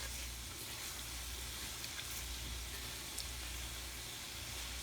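Hamburger and flour sizzle together in a hot pan, a steady, even crackle that runs unbroken and fairly quiet throughout, with no voices.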